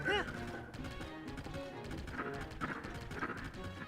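Horse hooves galloping in Zelda: Tears of the Kingdom, a rapid clip-clop rhythm under game music with a brief whinny near the start and a voice talking over it.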